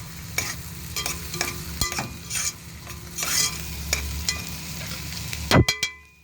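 Onion and a sliced pepper frying in a pan, a steady close sizzle with repeated scraping stirs and a sharp metal clang near the end, no talking.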